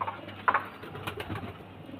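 Fancy face-up beauty pigeons give soft, low coos close by, with one sharper note early on and gentle murmuring after it in a quiet setting.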